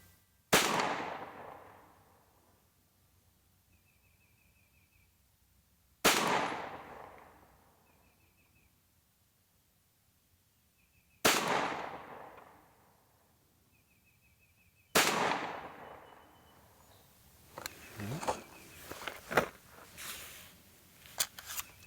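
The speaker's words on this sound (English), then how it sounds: "So we're starting off with the Cci Blazer 115 grain, 25 yards, 10 rounds." Four sharp, loud reports from a SAR USA K12 Sport pistol firing CCI Blazer 115 grain rounds at 25 yards, each shot spaced several seconds apart and ringing out, followed by a quick cluster of clicks and clatters.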